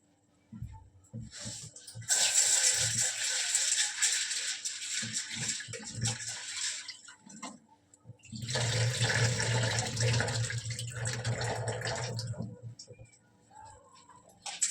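Dal lentils being rinsed, with two long stretches of running water that fill the space for several seconds each, separated by a short quiet gap with handling noises.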